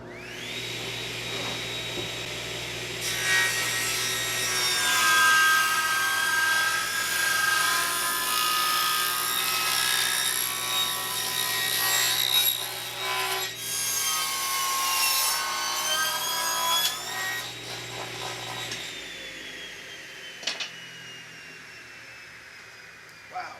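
A table saw rips 2x4 fence boards, a loud sustained whining buzz running steadily for most of the stretch with brief shifts in pitch as the blade bites into the wood, then trailing off near the end.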